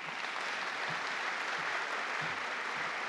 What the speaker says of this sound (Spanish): Agradecemos las palabras de la señora ministra con fuertes palmas